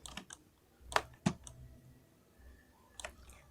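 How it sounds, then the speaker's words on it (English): Computer keyboard keys are pressed in a few scattered, quiet clicks and taps, with irregular gaps between the strokes. "then push R twice on the keyboard"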